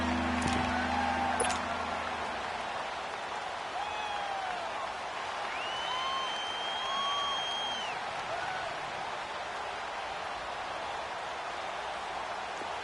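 A stadium crowd in a PS4 American football video game keeps up a steady, loud roar, with a couple of brief whistle-like tones early on and faint sliding tones later.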